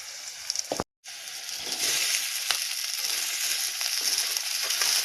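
Soaked sabudana (sago pearls) frying in a hot pan with chilli, a steady broadband sizzle after a brief cutout, with a few crackling pops and stirring scrapes, close and fairly loud, no voices.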